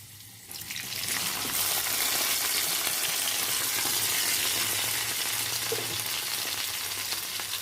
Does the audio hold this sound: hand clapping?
no